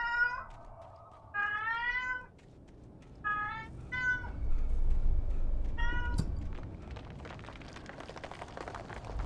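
A cat meows several times in a row, each call clear and close with strong harmonics and short pauses between them, during a session of the game Alan Wake, with a low rumbling background building up afterward.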